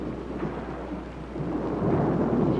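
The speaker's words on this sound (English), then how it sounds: "well, it's only thunder, dear." Low thunder rumbles on steadily through a storm, with a dense, grumbling roll that swells louder toward the end, heard alone without any talk.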